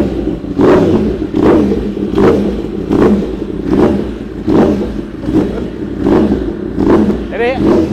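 Modified Yamaha R1M superbike on an auto warm-up mode, its engine revving in a steady repeating cycle of about ten rising blips, loud and close, with talk faintly over it.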